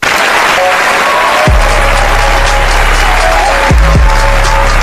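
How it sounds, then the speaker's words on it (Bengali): Loud, steady applause plays as a sound effect, dense clapping throughout with faint tonal swooshes underneath and no voices. "গাই সাদিকুল ভাইয়ের সন্তানদের জন্য একটা হাততালি হয়ে যায়"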